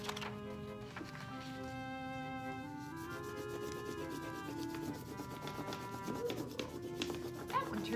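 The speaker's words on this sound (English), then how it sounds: "you can simply call it a leaf rubbing or capturing the texture" An orange crayon rubs over a linden leaf laid under paper, making a continuous scratchy, waxy scraping with repeated back-and-forth strokes, close and fairly quiet, against faint tonal background sound.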